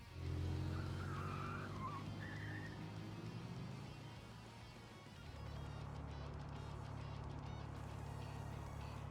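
A car in a video game speeds off through an underground railroad tunnel: loud engine roar with tire squeals and a honking skid at the start, then a steady rushing drone as it drives on, with no voices.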